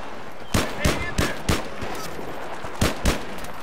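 Gunfire from the video game Battlefield 3, sharp separate shots in an uneven rhythm, some in quick pairs, over a steady background hiss of game ambience.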